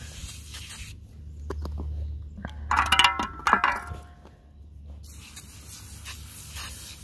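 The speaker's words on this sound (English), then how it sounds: "since it's off, I'm just gonna spray it" Degreaser sprayed onto the front hub of a BMW E30 during hub replacement, hissing in short bursts from an aerosol can close by, mixed with light clinks and handling noises and no talk.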